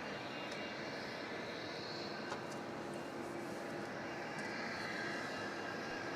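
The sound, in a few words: aircraft at Melbourne Airport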